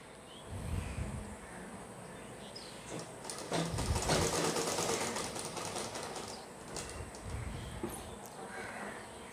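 A sewing machine stitching the side seam of a coat, a soft whirring run that swells in the middle and eases off, close and moderately loud, with faint background noises.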